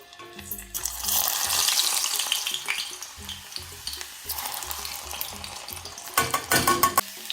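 Garlic hits hot oil for homemade chili oil, a loud, dense crackling sizzle that swells after the first second, holds steady, then flares again near the end with a low hum underneath.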